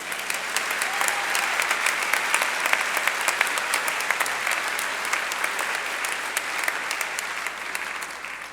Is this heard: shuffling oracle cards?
no